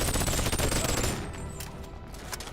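Rapid bursts of gunfire from the yellow gun in the Boneworks VR game, a dense loud volley for about a second that drops off into quieter ringing and scattered shots.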